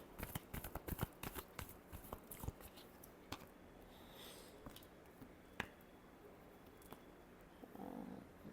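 Tarot cards get shuffled by hand up close, with a quick flurry of soft riffling slaps at first that thins to scattered taps and rustles, quiet and with no talking.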